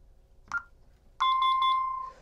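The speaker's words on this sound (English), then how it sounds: "just keep hitting zero until you hear the three beep confirmation" An Alarm Grid alarm panel keypad gives a short key beep, then a clear run of three rapid confirmation beeps in a steady tonal pattern, close and alone.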